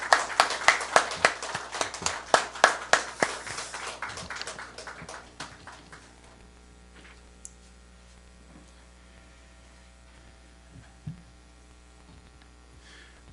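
A church congregation claps to welcome an elder at a Sunday service. About four seconds of brisk, fairly close applause fades out and leaves a quiet room with a low hum and a few faint clicks.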